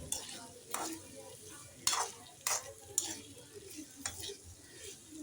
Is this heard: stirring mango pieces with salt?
yes